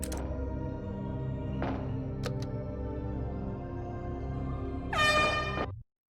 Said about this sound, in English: Single air horn